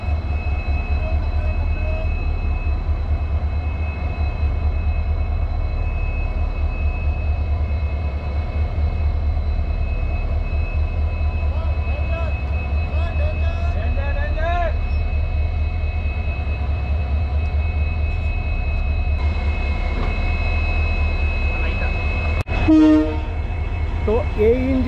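A WDG4 diesel locomotive heads the weekly Rameswaram–Bhubaneswar express with a steady, loud low engine drone throughout, thin squealing tones rising briefly midway and a sharper horn-like burst near the end.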